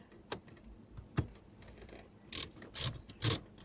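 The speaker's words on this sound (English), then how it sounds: "So we just take these 2 screws out here." A ratchet socket wrench works Torx screws loose from the center console of a Porsche Boxster 986, giving a few sparse clicks before three loud bursts of rapid ratcheting close by.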